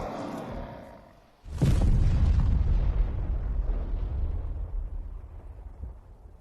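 Suicide skeletons exploding in an animated series: a sudden loud, deep boom followed by a long rumbling roar that slowly fades.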